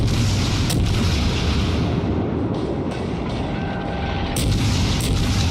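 Naval gunfire in World of Warships from a Tier IV American cruiser, Phoenix: heavy deep booms and rumbling blasts layered over constant battle noise, with sharper reports near the start and end.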